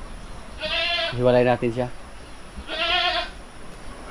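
Goats on a farm bleat twice, loud and close, with someone speaking between the calls.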